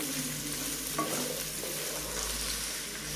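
Chopped small shallots sauté in hot oil for chicken mappas, giving a steady close sizzle with a brief stirring scrape near the start and no voices.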